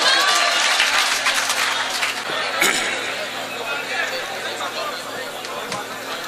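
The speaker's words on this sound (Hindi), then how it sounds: "जोरदार तालियों से इस्तकबाल करें।" An audience at a mushaira bursts into loud applause and cheering to welcome a poet, the clapping strongest at the start and then tapering into a lighter, sustained patter mixed with crowd chatter.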